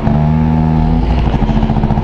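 A Honda Dio scooter engine hums while riding through city streets, with a steady buzzing drone that shifts slightly as it accelerates. The engine is loud and close, with no talk.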